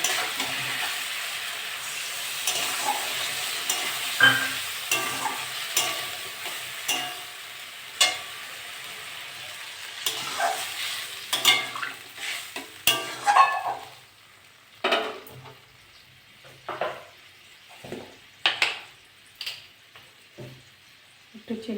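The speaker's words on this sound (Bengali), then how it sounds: "নেড়ে চেড়ে নেব।" Potatoes with poppy seed paste being stirred in a sizzling pan for aloo posto, a continuous frying hiss with repeated scraping strokes that turn into distinct clanks and scrapes later on.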